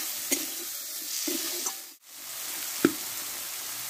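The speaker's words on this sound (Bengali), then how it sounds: "দেখো মশলাটা এবার একসঙ্গে আমি ভালোভাবে কষে নেব।" Ground spice paste with salt and turmeric fries in oil for a vegetable dish, a steady broadband sizzle broken by a few sharp scraping stirs of the spoon and a brief dip midway, with no talking.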